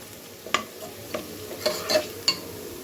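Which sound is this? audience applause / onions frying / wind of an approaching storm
onions frying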